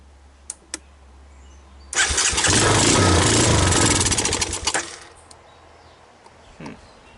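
ATV engine cranked over on choke, a few seconds of loud churning cranking nearby that stops without settling into an idle, with a couple of sharp clicks before it.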